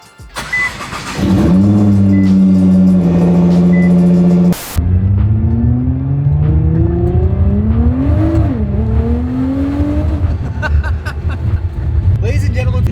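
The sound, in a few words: 2012 Nissan GTR engine revving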